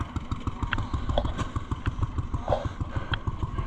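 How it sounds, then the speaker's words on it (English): An antique engine runs at a county antique machinery show, a steady rhythmic thumping putter with clattering mechanical overtones, close by and unbroken over outdoor background noise. "That's a sweet running engine."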